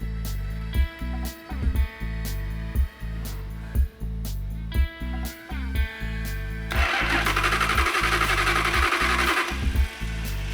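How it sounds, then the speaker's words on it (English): An old car's engine being restored cranks over and over in a steady churning rhythm without catching, the starter whirring loud and close before the grinding turns harsher and more broadband toward the end. "The engine didn't start like he said it would, or promised it would."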